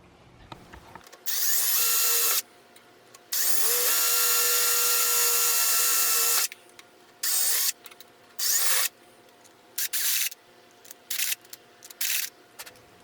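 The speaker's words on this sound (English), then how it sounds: "I'm going to go enlarge the holes" A power drill with a step bit enlarging holes in flattened copper pipe bus bars for a solar garage battery bank, running in several bursts of harsh, high grinding separated by pauses, close up and without voices.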